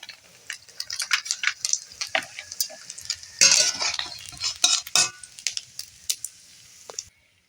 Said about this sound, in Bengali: একইভাবে সব মাছগুলো ভেজে নেব